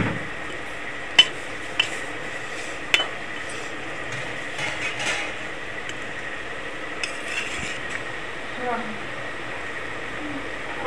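Fried lentil fritters being stirred into a potato gravy in a pan, with a few sharp clinks of a spoon on metal over a steady low sizzle and soft scraping, near and moderately quiet.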